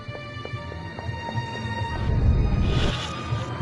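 Steady clip-clop of a horse on a television in the video game Destroy All Humans, evenly spaced hoofbeats over a sustained tonal hum, with a louder rush of noise swelling near the end.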